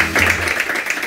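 Brief burst of studio audience applause for a guest on a Spanish television show, a dense, close patter of many hands lasting about a second.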